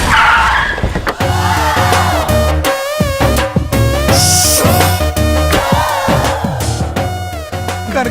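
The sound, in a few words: car arriving with skidding tires in movie scene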